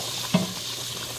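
Pork belly drops into a frying pan of squash with a soft thump, followed by a faint, steady sizzle of cooking.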